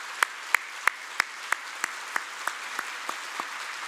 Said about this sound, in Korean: 우리 한번 수고하신다고 박수 한번 냈으면